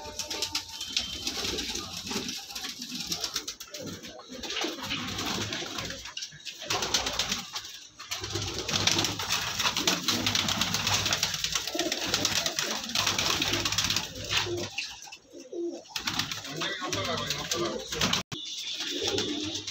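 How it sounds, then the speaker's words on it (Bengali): Male pigeons coo continuously in a loft with soft, layered throaty calls and occasional wing flutters, while people talk over them. "এগুলো সব নর পায়রা আছে।"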